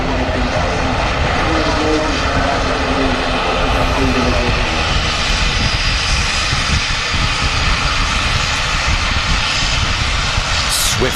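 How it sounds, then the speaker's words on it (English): A six-year-old Loganair ATR 72 turboprop roars loudly and steadily at an airport, a dense broadband engine and propeller drone that fills the whole stretch, with someone talking over it. "There's Logan ATR 72, 6-year-old aircraft with a lot of noise to it."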